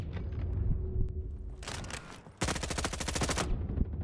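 Gunfire in a Roblox game styled after Call of Duty, with an isolated sharp shot early, then a loud rapid burst of repeated cracks that stops abruptly.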